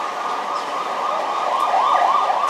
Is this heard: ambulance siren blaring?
yes